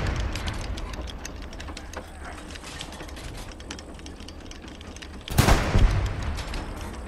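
Artillery rounds firing in the World War II shooter Hell Let Loose: a steady rumble of distant gunfire, then one loud, close blast near the end.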